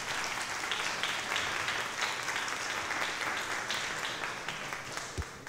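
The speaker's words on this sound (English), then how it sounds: "let's give our parents a round of applause." A church congregation applauds its parents as they stand, with steady full-room clapping that holds even and loud throughout and fades slightly at the end.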